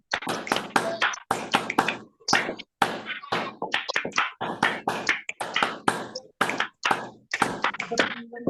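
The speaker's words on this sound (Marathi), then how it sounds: "सगळ्यांनी अनम्यूट करा आणि जोरदार टाळ्या झाल्या पाहिजे" Applause from unmuted Zoom meeting participants: clustered, compressed bursts of hand claps and taps that stop and restart in short rhythmic waves, fairly loud and close throughout.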